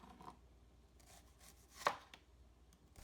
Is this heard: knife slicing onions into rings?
yes